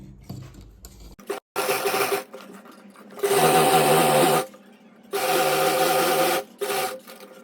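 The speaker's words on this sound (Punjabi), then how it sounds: "ਇਹਦੇ ਸਾਈਡ ਸਾਈਡ ਤੇ ਇੱਥੇ ਬਿਲਕੁਲ ਨਾਲ ਨਾਲ ਸਲਾਈ ਮਾਰ ਦੇਣੀ ਆ" A sewing machine stitches along a shirt collar in loud, close bursts of rapid whirring, starting and stopping several times with short quiet gaps between runs.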